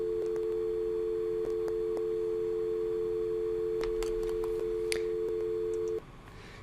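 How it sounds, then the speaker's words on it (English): A continuous telephone dial tone over a SIP trunk drones steadily for about six seconds, with a few soft clicks over it, then stops. "so we at least got dial tone"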